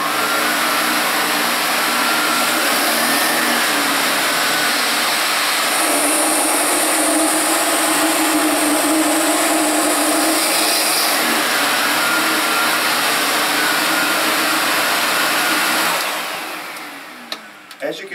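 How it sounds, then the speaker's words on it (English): A Sebo Dart vacuum cleaner runs steadily with a loud, constant motor whine while picking up pet hair from the floor, then powers down at the end. "it is literally pulling the pet hair into the vacuum before it even gets over the pet hair."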